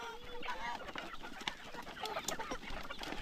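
Young chicks around three months old on a farm, a close cluster of high cheeping and clucking calls overlapping throughout, with some faint human voices mixed in.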